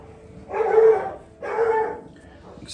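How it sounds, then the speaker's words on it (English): Two bursts of dog barking from dogs in a home, somewhat distant and muffled in the background, each lasting about a second with a short gap between them. "Excuse the dogs in the background."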